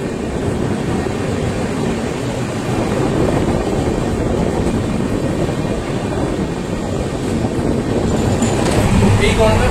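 The 12517 Guwahati Garib Rath Express runs between Kolkata and NJP, a loud, constant rumble of wheels and carriages heard from on board, without pauses.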